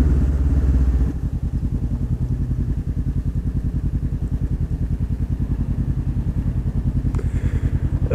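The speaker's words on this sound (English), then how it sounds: "Getting some gas for my motorcycle." A motorcycle engine idles steadily at a gas station, its low rapid pulsing loud and close throughout, with a light clatter at the start and a brief higher rattle near the end.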